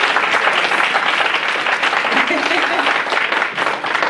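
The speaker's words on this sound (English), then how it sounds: "so we can give her a round of applause" A lunch audience applauds a guest speaker with a dense, loud burst of clapping that holds steady for about four seconds, with crowd voices mixed in underneath.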